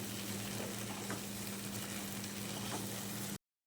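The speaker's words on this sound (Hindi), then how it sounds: "अब हम इस पेस्ट के साथ बहुत ही अच्छी तरीके से इसकी भुनाई कर लेंगे।" Ground onion paste fries hard in a pan for beef karahi, giving a dense, continuous sizzle with a low steady hum underneath that runs unbroken until it stops abruptly.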